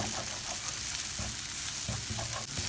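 Egg and masala sizzle and fry steadily in a hot pan for mushroom kothu parotta, while a spoon stirs through with scraping strokes, close and continuous, with no talking.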